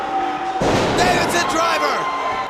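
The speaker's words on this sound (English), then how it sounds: "He just slammed the steel cage door in Cameron Cole's face." A steel cage door slams shut at a professional wrestling event, one loud sharp crash with a brief metallic ring, set against a roaring crowd and an excited commentator talking over it.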